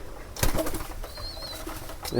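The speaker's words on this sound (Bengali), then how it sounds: "একজোড়া কবুতর বাচ্চা হয়েছে" Pigeons kept in a home coop with a newly hatched pair of squabs give soft, low coos close by, mixed with a few brief rustles and a flutter of wings.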